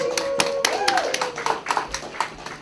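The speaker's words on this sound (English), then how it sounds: "Everybody give Julia a round of applause." Brief, uneven clapping from an audience at a children's magic show, a handful of sharp hand claps with voices and a child's chatter around them.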